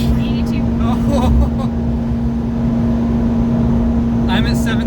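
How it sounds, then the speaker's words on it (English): A Mitsubishi Pajero Mini kei car engine drones at top speed, a loud, steady high-revving hum with road and wind noise, while a person talks over it. "I've got it pinned. Engine screaming."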